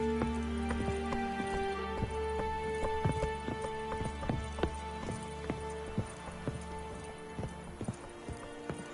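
Roach, Geralt's horse in The Witcher 3 on PS5, gallops with steady rhythmic hoofbeats close by, set against a bed of in-game ambience and music.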